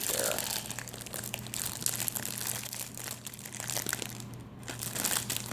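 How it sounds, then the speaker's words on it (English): Close, continuous crinkling and crackling of wrapping around a small strawberry glaze shavable wax melt, with dense irregular rustles running the whole time over a low steady hum. "Sorry about the crinkling."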